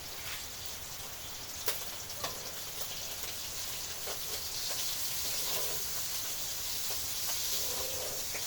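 Heavy rain falls in a steady, dense hiss, with occasional louder drops landing close by.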